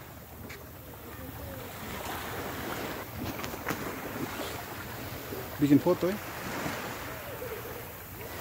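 Waves and gusty wind roll steadily along Liang Beach in Ambon, a broad rushing wash under a brief spoken exchange near the microphone.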